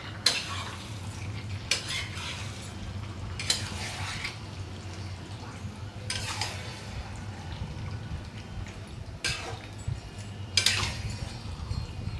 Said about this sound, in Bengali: এবার কষিয়ে নিচ্ছি ভালো করে আরও এখন একবার নাড়িয়ে নিচ্ছি